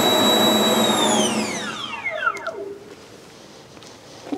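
A pulse jet engine roars at full throttle outdoors, loud and continuous at first, then winds down with a falling whine over a couple of seconds, leaving faint rumbling and small bumps.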